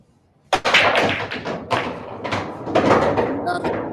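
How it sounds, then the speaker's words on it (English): Pool break shot in a hot seat match: a sharp cue ball strike on the rack followed by a scatter of clacking balls and thuds over a few seconds, close and clear, with a voice talking underneath. "Another great break."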